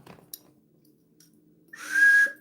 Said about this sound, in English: Then somewhere ahead comes the sound of a whistle.